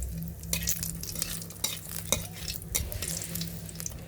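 Bay leaves and dried red chilies drop into hot oil in a village kitchen, giving a steady close sizzle with scattered pops and crackles and a few sharper clatters; no one speaks.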